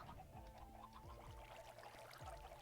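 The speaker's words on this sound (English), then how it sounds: "I hear the chickens" Chickens in the Minecraft video game cluck in short repeated calls, set against a steady hum of other game sound.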